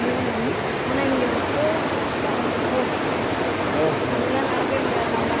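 Water rushing with force at Puliyancholai, a dense, loud, continuous roar of flowing stream water with no breaks, heard close and alone.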